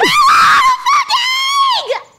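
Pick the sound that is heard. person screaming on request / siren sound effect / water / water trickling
person screaming on request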